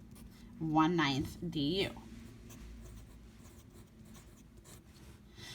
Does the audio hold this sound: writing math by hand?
yes